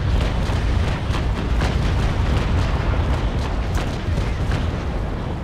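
Sailing ship cannons firing a broadside in the naval combat game Naval Action, a loud, continuous rolling roar of booming shots and crackling blasts.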